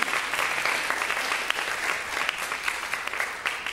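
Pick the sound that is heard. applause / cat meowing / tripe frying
applause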